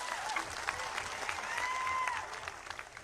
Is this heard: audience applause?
yes